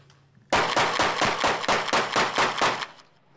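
Police officers fire a rapid volley of handgun shots during close-range shooting training, about ten loud sharp cracks in quick succession at near distance, then stopping abruptly.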